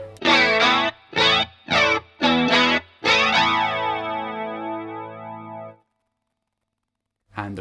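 Electric guitar run through a Mistress flanger pedal with its output boost on, playing a run of loud, sustained chords with a sweeping, swirling modulation; a long final chord rings out and fades, followed by silence and a brief new attack.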